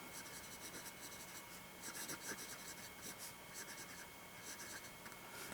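A modern Wahl Eversharp Decoband fountain pen with a super flex nib, filled with Diamine Earl Grey ink, scratches faintly across paper in quiet, close, continuous strokes.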